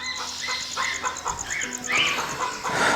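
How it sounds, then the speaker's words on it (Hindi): A desi hen clucks repeatedly in short, uneven bursts on a backyard poultry farm, close by, with a few higher squawks toward the end and a faint steady tone in the background. "और ये एक जनाब शामू मुर्गी है ये वाली।"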